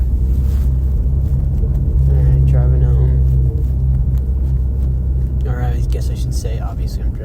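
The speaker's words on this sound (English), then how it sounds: "I'm driving up, pulling up to my house" A car drives home and pulls up to a house, its low steady engine rumble filling the cabin throughout while someone talks over it.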